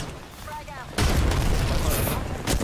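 Frag grenades detonating in Apex Legends, a sudden broadband blast near one second followed by sustained rumbling and a second burst near the end, with gunfire-like crackle and a voice talking over the game audio.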